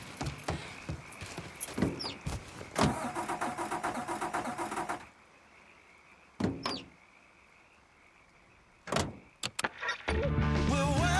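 A car engine in Mafia 3 cranks and fires up amid busy game sounds, with a quiet gap, then brief bursts and a steady idle rumble toward the end.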